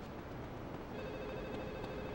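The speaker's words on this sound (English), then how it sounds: "there's not a phone around here that's ringing?" A telephone rings in the video game Grand Theft Auto: Liberty City Stories, a steady electronic ring sustained through the short stretch with no voices over it.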